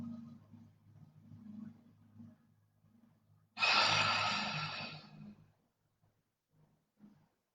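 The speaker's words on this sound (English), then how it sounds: "We'll begin our breathing here." A deep breathing exercise in a morning yoga class, with soft, quiet breaths first and then one long, loud exhale that fades away, ending in near silence.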